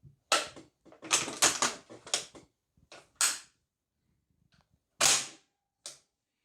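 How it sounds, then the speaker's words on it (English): Bren Mark I light machine gun being handled and dry fired, sharp close metallic clacks and snaps from the folding cocking handle and bolt, in bursts separated by silence. "It has a folding cocking handle which will now demonstrate a dry fire."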